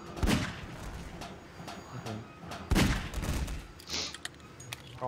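Gunfire in the video game Half-Life 2 in the Ravenholm level: repeated loud, sharp shots and bursts spread across the moment, with voices heard among them.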